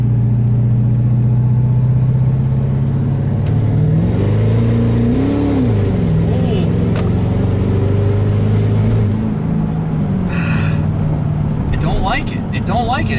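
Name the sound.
Ford 6.7 Powerstroke diesel big turbo spooling, straight pipe, third gear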